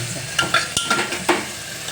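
Guvar (cluster bean) dhokla and vegetables with a pinch of sugar cook in a pan, with a soft steady sizzle broken by about six sharp spatula scrapes and stirs at an uneven pace, close by and with no talking.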